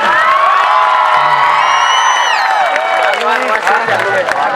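An audience at the PM SHRI SAGES Sarangarh school annual function claps and cheers loudly. Whoops, children's shouts and scattered applause merge into a sustained roar that fills the whole stretch.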